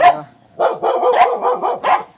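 A dog barks close by: a single bark, a brief pause, then a quick run of five or six sharp, loud barks in a row, with no talk.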